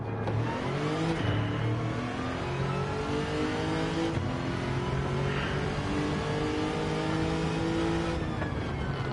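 A race car engine in a Le Mans endurance racing video game revs steadily upward in pitch, drops at each upshift and climbs again, loud and continuous with no voices.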